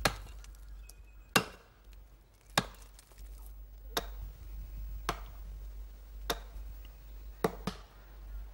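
Sharp, evenly spaced chops of a blade striking wood, about one per second, ringing out clearly against a low steady hum.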